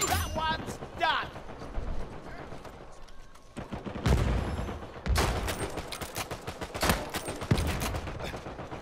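Gunfire from an AK rifle in Uncharted 4: A Thief's End, loud bursts and single shots rattling across the scene, with several heavy blasts around the middle and end, mixed with in-game voices shouting.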